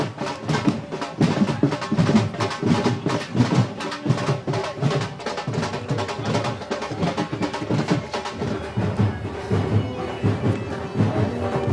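Dhol drum beaten steadily at a wedding celebration, loud and rhythmic, mixed with other music and crowd noise throughout.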